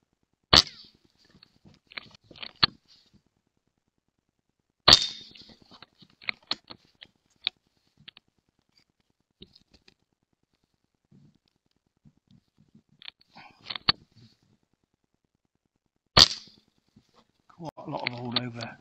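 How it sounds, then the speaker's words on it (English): Gunshots fired at a target seven yards away during a night and daytime scope comparison, four sharp loud cracks spaced a few seconds apart, each with a short ringing tail, followed by a brief burst of handling noise at the end. "Let's fire a few shots."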